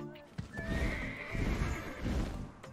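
A horse in Black Desert Online neighs and whinnies while its hooves clip-clop at an Orc Camp farming spot, loud and close, with a voice talking over it.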